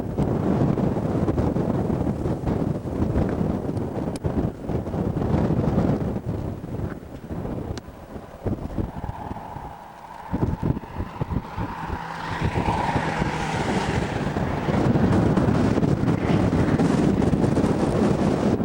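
Strong wind in Hawaii buffets the microphone in loud, continuous roaring gusts that ease briefly midway, with no voices.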